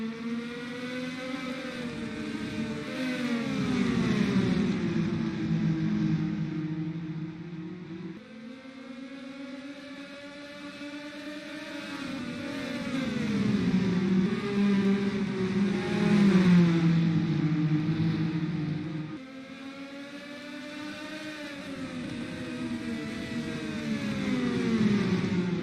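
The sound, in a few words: IndyCar race cars accelerating at green flag restart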